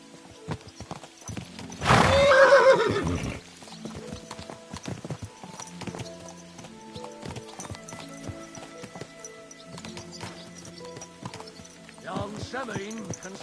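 A horse whinnies loudly at first, then hooves clip-clop steadily as it gallops, with voices talking over the music, in the video game Kingdom Come: Deliverance II.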